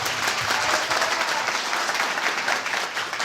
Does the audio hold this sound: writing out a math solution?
no